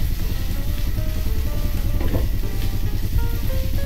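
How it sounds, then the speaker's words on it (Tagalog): Chicken sotanghon soup with black pepper stirred in a pot, with steady close sizzling and soft scraping throughout, no voices. "Halu-haluin lang natin yan ng ilang minuto."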